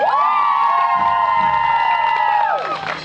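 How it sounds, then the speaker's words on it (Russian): An audience cheers for a contestant at an outdoor beard contest during a spring festival in Kramatorsk, with one loud, sustained whooping shout ringing over crowd noise for nearly three seconds before trailing off. "Ваши аплодисменты Роману!"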